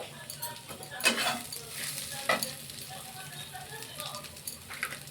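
Mashed potato is stirred with turmeric and spices in a pan for batata vada: soft, fairly quiet scraping and mixing, with a few sharper spoon knocks against the pan.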